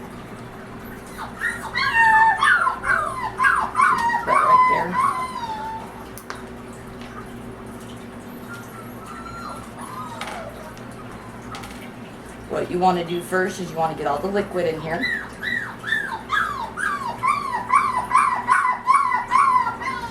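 Puppies whimper and yip in high, wavering whines while a person talks steadily over them.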